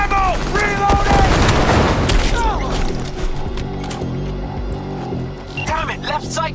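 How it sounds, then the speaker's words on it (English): Gunfire in the video game Cyberpunk 2077: rapid bursts of shots and mechanical clatter in a loud, dense firefight, with voices shouting over the shooting. "Keep firing! Out of ammo! Reloading!"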